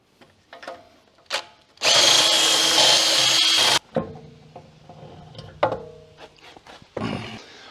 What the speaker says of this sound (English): So we're going to quickly remove the front wheels to create some space.